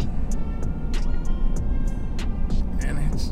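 A GMC Sierra AT4 4x4 pickup with an aftermarket Corsa exhaust idles before it has warmed up. A steady low rumble runs throughout, close and even, with faint ticking clicks on top.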